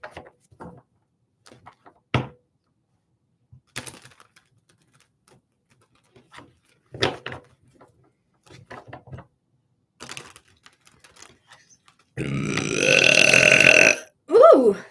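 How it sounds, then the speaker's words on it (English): A loud, sustained burp lasting about two seconds, with a short second belch right after it, follows a stretch of scattered faint clicks and small noises. "Spirit makes me burp for those of you who are unaware."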